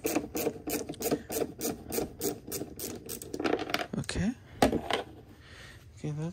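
Screws are worked out of the lid of a Ryobi 40V brushless mower, with rapid ratcheting clicks and rasping turns close by, then a few sharper scrapes and knocks near the end.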